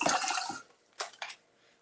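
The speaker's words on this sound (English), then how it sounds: "I'll just give this a quick rinse." A blender jar is given a quick rinse, with a short splashing gush of water followed by two brief, fainter sloshes and splashes in a quiet setting.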